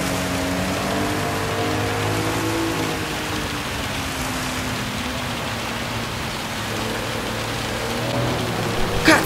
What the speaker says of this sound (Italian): La pioggia continua a imperversare.